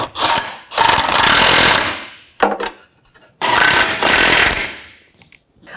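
Wrench and 21 mm socket snugging steering rack bolts to the subframe on a 2009-2014 Nissan Maxima, heard as two long, loud bursts of rapid metallic ratcheting close by, separated by a short clank and a pause.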